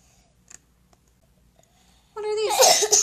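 A single sharp sneeze bursts out near the end of a quiet children's music class, loud and close after a few faint clicks.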